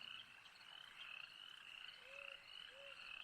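Frogs croak in a swamp in the early morning, a couple of short faint croaks late in the scene over a steady high insect drone, quiet and distant.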